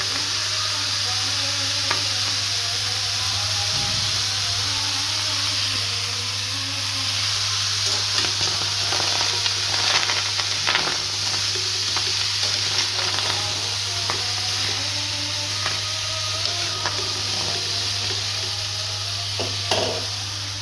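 Raw mango pieces cook in a wok with a continuous loud sizzle and frequent stirring and utensil scrapes throughout, close by and without talk.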